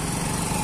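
A small motorcycle engine fires up and runs at a steady idle, close by and continuous, on a rural outing in the Bajo backcountry.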